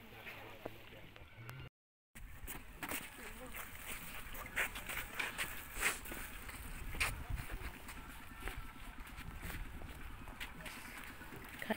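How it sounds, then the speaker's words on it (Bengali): A wooden boat crosses the Lalakhal river in Sylhet, with a low rumble and water noise under wind buffeting. People talk throughout the ride. "নৌকার মাথায় ওপারে যাওয়ার জন্য আমরা নৌকায় চড়ে বসেছি।"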